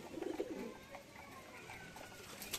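Pigeons of the Giribaz and Madrasi breeds coo low and soft near the start, a few rounded calls over a faint, steady background hiss, with no talking.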